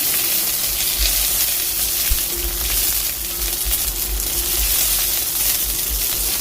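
Drumsticks (moringa pods) sautéing in hot coconut oil in a pan, giving a steady, close broadband sizzle that runs through the whole stretch with faint stirring scrapes and no voices.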